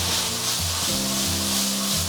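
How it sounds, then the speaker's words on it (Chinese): Red pepper, celery and scallion pieces hit a hot wok with squid and sauce, giving a brief, loud, steady sizzle. Low scraping strokes of tossing run under it. "紧接着我们就把红椒、 芹菜跟葱段放上去给它爆炒，"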